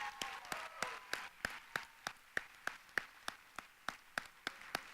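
An audience applauds the project finalists at a university public policy challenge finals event, with distinct, evenly spaced claps sounding fairly faint and sparse rather than a dense ovation.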